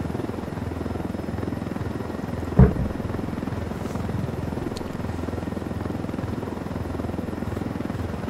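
A helicopter in the Halo video game gives off a steady, even rotor drone that carries on throughout, with one short sharp knock near the middle and no talking.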